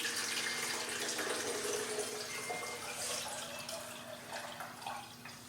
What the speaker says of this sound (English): it says to take this 32 ounces and to mix it, or to dump it into your sprayer reservoir.